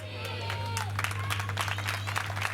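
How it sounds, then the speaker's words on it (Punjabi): A church congregation gathered for Sunday Easter worship claps together in a rapid, uneven patter. Steady electrical hum runs underneath, and a speaking voice cuts through the clapping now and then. "ਦੇਖੋ ਵੇਖ ਤਾੜੀ ਮਾਰਦੇ"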